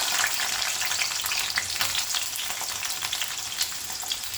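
Onion, green chili and curry leaves frying in a spoon and a half of hot oil, giving a loud, continuous crackling sizzle with occasional stirring scrapes throughout.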